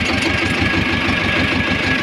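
A T-25 tractor engine runs steadily at idle with a rhythmic low chugging pulse, loud and close, heard alone.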